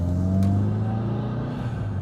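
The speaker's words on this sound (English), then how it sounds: "as you can hear, that soundtrack, 4-cylinder, 4G63 turbo engine" A Mitsubishi Evo VI's 4G63 turbocharged four-cylinder engine pulls out onto a main road, giving a steady, close, droning rumble with a strong low hum throughout and no talk.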